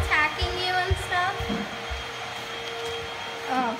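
A vacuum cleaner drones steadily nearby with a whining motor tone, and a frightened dog's short squeaks or whimpers break through at moments.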